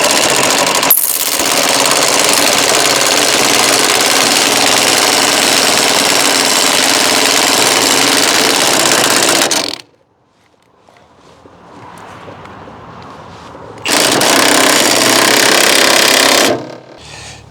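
An impact wrench drives the jack of an apple press in two long bursts: a loud, rapid hammering rattle up close for about nine seconds, a short quiet gap with faint clanks, then a second burst of about three seconds.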